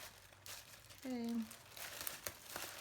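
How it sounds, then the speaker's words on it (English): Paper envelope being folded and crinkled by hand like a package, decorated with Paris-themed tape, in a quiet indoor setting; soft rustling and bending sounds come in short bursts with a brief voiced hum in the middle. "Now all I'm doing is like kind of bending the sides in right here like I would do a normal package."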